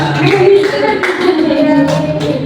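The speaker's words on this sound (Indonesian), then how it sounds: "Ya, semuanya, tepuk tangan buat semuanya." Students applauding everyone in a junior high Islamic cultural history class, a brief round of clapping mixed with voices and chatter in the room.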